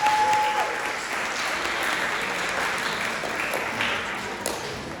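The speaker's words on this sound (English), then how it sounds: "Please make a round of applause for them." A middle school audience claps for honor roll students, dense lively applause from a large group starting strong and holding steady with a slight fade at the end, no speech over it.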